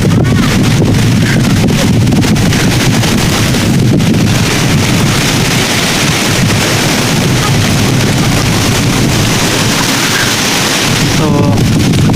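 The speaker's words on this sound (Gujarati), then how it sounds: "પવન પણ બહુ છે" Strong wind buffets the microphone with a loud, constant roar throughout, with a few brief faint sounds barely showing through.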